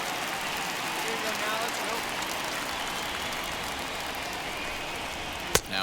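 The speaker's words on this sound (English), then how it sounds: "This has got to be the hardest rain we've seen all afternoon." Steady, dense rain hissing in MLB The Show during a baseball game, a constant wash of drops throughout with a sharp crack near the end.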